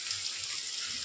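Chopped onion dropped into hot oil in a pan while bitter melon is cooked, giving a steady bright sizzle with no break throughout.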